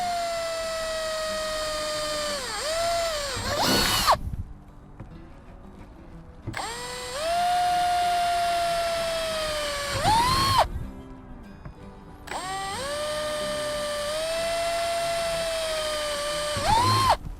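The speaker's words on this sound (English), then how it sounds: "So we'll drill a couple of extra holes." A power drill with a 5/16-inch bit bores extra holes in a pipe for a DIY pump filter: three close, sustained whining bursts, each dipping in pitch as the bit bites, separated by short quiet pauses.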